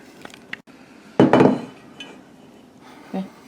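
Shallots smashed into a paste in a bowl: one loud, close burst of clanking and grinding against the bowl, set between quieter scattered taps and a faint knock near the end.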